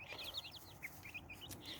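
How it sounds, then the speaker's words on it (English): Chickens cluck and cheep in a quick series of short, bright calls outdoors, fairly close and alone over a soft background hiss. "I hear the chirping and the cheeping of the chickens."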